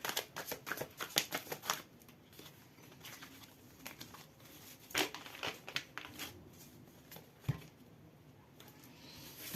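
Tarot cards being shuffled up close, a quiet run of crisp riffling and flicking bursts that come in uneven clusters with short gaps, with no talk over it.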